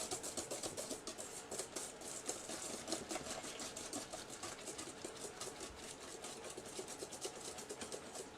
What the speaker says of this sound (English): So there we have all of our chocolate in there. We're going to whisk that together.